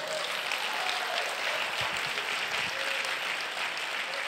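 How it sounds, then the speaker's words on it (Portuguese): A church congregation applauding together: a steady, dense wash of clapping that holds at an even level throughout, with no voices rising above it. "Vamos dar um aplauso ao Senhor Jesus?"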